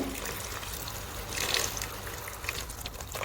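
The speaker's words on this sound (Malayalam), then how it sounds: "തിളപ്പിച്ച വെള്ളമാണ് ഒഴിച്ചു കൊടുക്കുന്നത്" Boiling water poured into a pan of chicken majboos in a short, steady stream, a soft splashing trickle that swells briefly in the middle.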